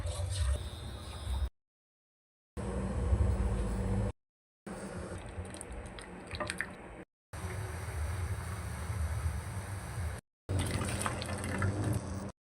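Water poured into a container while making mango jelly salad, a splashing gush in several separate bursts broken by silent gaps, close and fairly quiet, with no talk.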